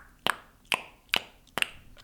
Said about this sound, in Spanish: vamos a buscar el mítico chasquido que todos hemos hecho alguna vez de...